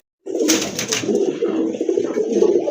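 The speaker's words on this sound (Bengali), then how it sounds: "আরেকটা কবুতর দেখেন" Pigeons coo steadily and close by in a low, continuous rolling murmur, with no talk over them, among birds kept for sale.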